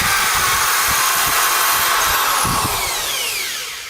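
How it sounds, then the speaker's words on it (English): A power drill bores into a metal piece being prepared for dam brazing, guided by an existing bore. It gives a loud, continuous high whine with a grinding texture that eases off slightly at the end, heard close up with no talking. "our drill is drilling real close"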